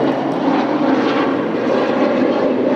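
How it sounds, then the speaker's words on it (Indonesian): An airplane passes overhead with a loud, continuous broadband engine roar that stays steady and close for the whole stretch, with no talking. "Dulu guys, ada pesawat."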